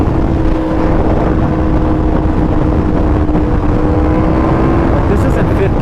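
A Yamaha R1 motorcycle with a flashed ECU holding fifth gear at 7,000 RPM, its engine a loud, steady droning whine with constant pitch under a rush of wind, recorded up close from the rider's position.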